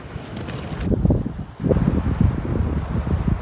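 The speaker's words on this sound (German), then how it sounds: "Der Wind, der bewegt mein Zelt die ganze Zeit." Strong gusts shake a tent at a campsite on a solo motorcycle trip. The wind buffets and rustles the fabric in uneven bursts, with a brief lull midway.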